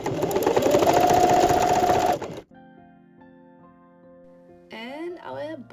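An electric sewing machine runs steadily for about two seconds while top stitching around the edge of a fabric book sleeve, then stops and soft background music and a voice follow.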